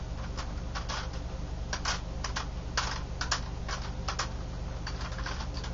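A plastic massage stick taps against the bony back of the neck, giving a run of quick, dry clicks in uneven bursts over a steady low background hum.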